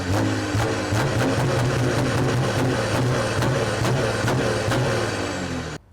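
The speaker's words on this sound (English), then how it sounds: "I think the exhaust sounds disgustingly loud, and Scott's not a big fan at all" A VW Amarok 3.0 TDI V6 fitted with a custom exhaust idles close by, giving a loud, steady low rumble with a regular pulsing beat and no voices.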